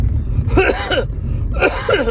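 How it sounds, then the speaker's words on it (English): Two harsh, close coughs, about a second apart, loud and raspy. "Excuse me, first cough of the day."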